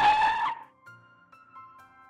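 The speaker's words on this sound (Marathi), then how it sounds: "ड्रायव्हरने पार्किंग मध्ये गाडी थांबवली" A car brakes to a stop in a parking lot with a short, loud tire skid lasting about half a second, then cuts off into a quiet, steady tonal background.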